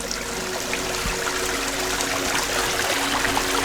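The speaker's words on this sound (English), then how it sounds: "It's not often you get to see a spring coming out of the rock, the beginning of a river." Spring water wells out of rock on a mountainside at the source of a river near Istán, a steady close trickle and gurgle with a constant low hum beneath, no voices.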